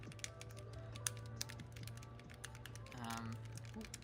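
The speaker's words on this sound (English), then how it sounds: "I'm just going to unplug so you can hear the type test." Rapid clacky keystrokes on a mechanical keyboard, irregular and close, with a brief murmur of a voice partway through.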